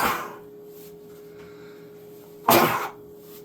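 A single sharp, loud sneeze bursts out near the microphone in a home kitchen during a grilled cheese cooking session, following a few seconds of quiet room noise with a faint steady hum.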